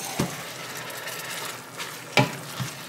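Collard greens with onion and tomato being flipped and stirred in a frying pan: a soft continuous sizzle broken by a few sharp scraping knocks of the utensil against the pan.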